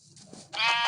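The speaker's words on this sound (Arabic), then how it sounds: "دورنا على خروف" A sheep bleats in a video game, one short, bright bleat rising near the end of a brief moment after faint, muffled sounds.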